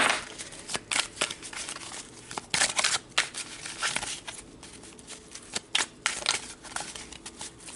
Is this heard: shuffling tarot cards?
yes